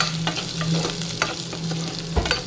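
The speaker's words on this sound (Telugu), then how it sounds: "ఈ ఆయిల్లో ఆనియన్స్, చిల్లీ ముక్కలు వేసుకోవాలి" Chopped onions and chilli pieces sizzle and fry in hot oil in a pan for a prawn curry, with bright crackling and occasional stirring scrapes heard close up.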